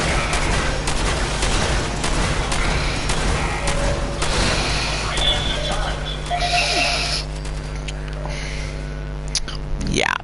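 Turrets in the Fallout 4 Automatron game fire sustained bursts of rapid gunfire mixed with booms and mechanical whirs, loud and dense throughout, with a voice speaking over the combat.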